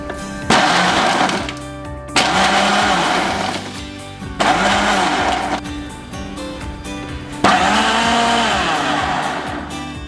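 A blender mixes spiced mango juice with lemon juice and green chilli, running in four loud whirring bursts that each start abruptly and pause briefly, with the motor pitch shifting as the blades churn.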